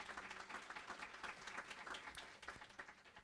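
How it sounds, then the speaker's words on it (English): A room of attendees at a women-in-leadership event applauds, a dense, lively patter of many hands clapping at fairly constant loudness throughout, with no speech. "Let's give a round of applause to all of us who are here today."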